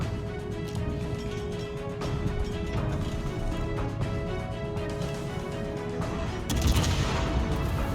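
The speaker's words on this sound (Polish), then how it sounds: "Jest tutaj strzał za strzałem" Warship gunfire in World of Warships, a dense run of rapid booming shots and blasts from a Russian cruiser, steady and loud throughout, with a heavier burst near the end.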